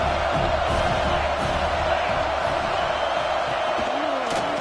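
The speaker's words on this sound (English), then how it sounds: "This crowd knows when to bring it." Football stadium crowd roars in a dense, sustained wall of cheering, loud and steady for a few seconds with no break.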